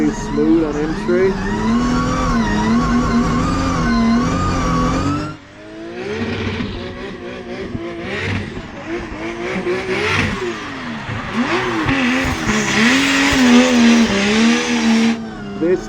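A Nissan 180SX on its first drift lap: the engine revs hard and rises in pitch, drops off sharply near the middle, then climbs again while the rear tires squeal loudly and continuously.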